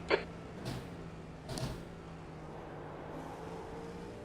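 In a racing video game on the Nurburgring GP circuit, a race car draws alongside on the left and passes. The engine drone is faint and steady, with brief whooshing swells near the start.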